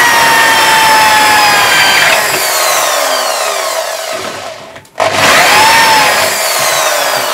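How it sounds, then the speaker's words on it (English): A tool bores a chamber into antler for a walking stick, giving a loud, steady whine that drops out briefly near the end before resuming. "Right, we'll just drill the chamber down first."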